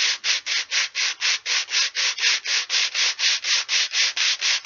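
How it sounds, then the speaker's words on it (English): Rhythmic scraping of sandpaper on small wooden popsicle craft sticks, close up, with about twenty even back-and-forth strokes at a steady pace. "the sanding of your popsicles craft sticks"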